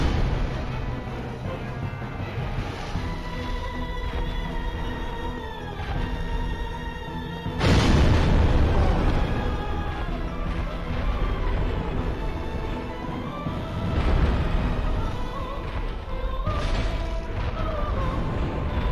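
Fire explosions burst during a Dark Souls boss fight in the Demon Ruins, loud booming blasts over a dense game soundtrack, with a heavy impact midway and another surge near the end, no speech.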